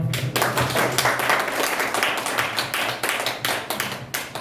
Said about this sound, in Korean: 발표해 주신 손병호 소장님께 다시 한번 박수 부탁드리겠습니다